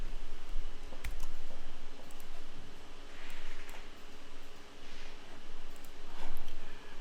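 Computer mouse clicks in quiet room-tone while someone works through menus in Adobe software, a few sharp isolated clicks, one louder near the start, with faint soft rustling between.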